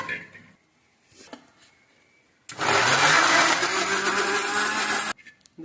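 A mixer grinder grinding jackfruit batter for a Mangalore-style jackfruit snack whirs loudly for about three seconds after a stretch of quiet talk, then cuts off abruptly.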